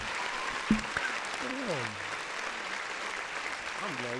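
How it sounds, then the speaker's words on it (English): Studio audience applause at a podcast taping, a steady wash of clapping lasting several seconds, with brief speech-like voice fragments over it. "Give us a round of applause, man."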